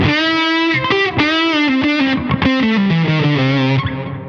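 Thick fuzz-drenched electric guitar from a Dophix Medici Dual Fuzz pedal plays a short, loud melodic phrase of sustained, bending notes.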